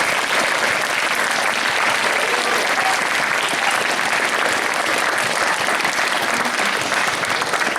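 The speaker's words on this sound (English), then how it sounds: "Can you please put your hands to congratulate each other?" Audience at a Year 8 school award assembly applauding, a steady, loud wash of many hands clapping throughout with no break.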